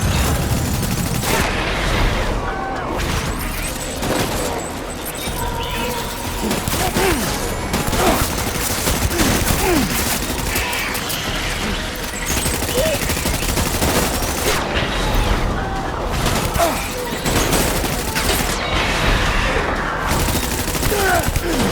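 Sustained video-game gunfire in Death Stranding, a dense fusillade of rapid shots and bursts with booms and crashes, loud and continuous throughout, with occasional voices mixed in.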